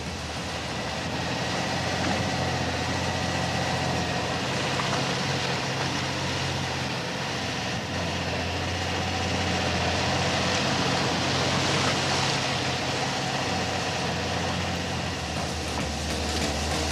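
A sailboat motors into Gedser harbour in 1978 under engine power, a steady low droning rumble with a broad wash of wind and water noise, continuous and even throughout.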